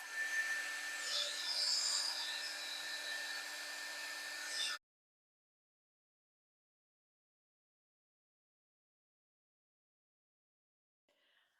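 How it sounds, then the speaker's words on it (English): A hairdryer drying watercolour paint blows with a loud, steady whoosh for a few seconds, then cuts off into near silence. "I might actually give a bit of a dry with the hairdryer"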